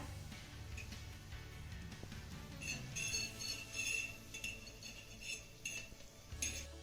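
Besan-coated papad rolls are turned over in a pan on a low flame, with light metallic clinks and scrapes of a utensil against the pan over a soft, steady background, and no talking.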